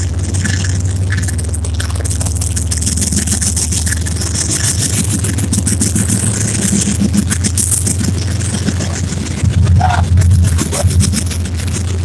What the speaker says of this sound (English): So now the train coming.